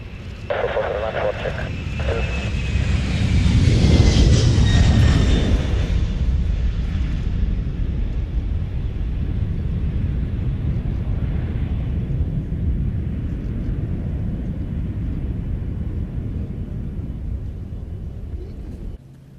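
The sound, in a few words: Japanese Air Force Kawasaki C-2 aircraft flying at air show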